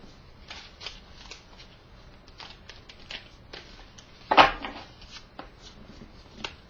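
Tarot cards being shuffled close up, a soft rapid riffling patter with a louder snap of cards near the middle, no voices.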